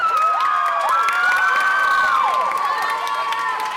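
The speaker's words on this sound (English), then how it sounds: "Yes, they deserve a round of applause." A middle school spring concert crowd cheers and shouts, with children's voices rising and falling over scattered clapping for the performers.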